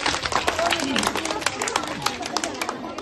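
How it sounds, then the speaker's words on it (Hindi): Children in a classroom quiz clap for a child who answered correctly, a dense crowd of hand claps with chatter mixed in, lasting throughout at a steady level. "ताली बजाओ हमारे बच्चे के लिए"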